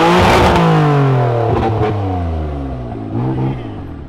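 A Ferrari leaving a charity event revs hard up close. Loud rising and falling engine sweeps come in several bursts, with a brief lull and another throttle blip toward the end.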